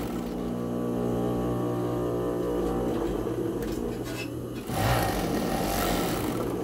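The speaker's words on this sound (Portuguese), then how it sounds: "eu vou passar uma overlock na barrinha pra dar o acabamento" An overlock serger stitches the hem band of a dog sweatshirt, giving a steady, close mechanical whir for about four seconds. The machine then stops, leaving handling noises and a brief thump.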